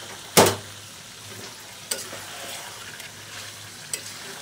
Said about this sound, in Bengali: আর মাংস কষানো চলছে